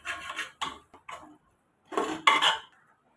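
A spoon stirring mutton kulambu with coriander powder and mutton masala in a cooking pot, with several close scraping and clinking bursts separated by short pauses.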